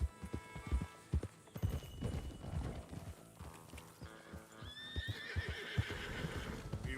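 Horses snort and neigh while their hooves clip-clop in an uneven rhythm, several close whinnies rising over the plodding steps.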